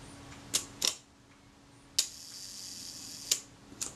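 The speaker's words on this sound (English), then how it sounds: "But see if the shutter will go." A Retina Reflex S camera shutter fires at its 1-second setting. Sharp mechanical clicks come at about 0.5, 0.8, 2.0, 3.3 and 3.8 seconds, close and distinct against a quiet background.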